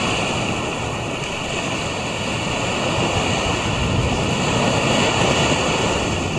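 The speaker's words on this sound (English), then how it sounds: "Can you hear that sea? That is the Pacific." Pacific Ocean surf at a beach resort in Puerto Vallarta, Mexico: a continuous loud roar and wash of waves close by, with some wind rumble on the microphone and no talk.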